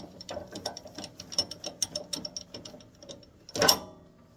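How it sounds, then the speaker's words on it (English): A four-jaw chuck is spun and threaded onto a wood lathe headstock, giving a run of quick metallic ratcheting clicks and clatter close by, with a louder clunk as it seats near the end. No one speaks. "So let's get our 4-jaw chuck. Let's get that threaded onto our headstock."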